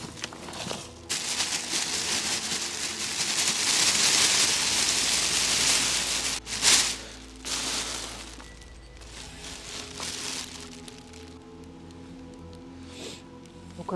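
Light, fine rain patters steadily on a winter camping tent at night, then eases off into quieter rustling and a few soft knocks.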